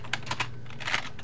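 Quick keystrokes on a computer keyboard, several light close clicks in an uneven burst over a low background hum.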